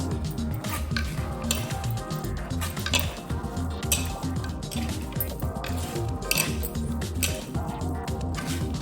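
Chopped coriander and green chillies are stirred into chicken dum biryani in a pot, a continuous scraping and clinking of spoon on metal over a soft sizzle, close and busy, with no talking.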